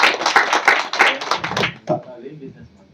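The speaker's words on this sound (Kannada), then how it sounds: "ಅವ್ರಿಗೊಂದು ಚಪ್ಪಾಳೆ ಕೊಡ್ಬೇಕಂತ ನಾನು ಬಯಸ್ತಾ ಇದ್ದೀನಿ" An audience at a Kannada film trailer launch applauds in a quick run of close claps that lasts about a second and a half, then fades as a voice takes over.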